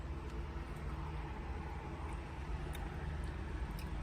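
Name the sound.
passing cars, traffic noise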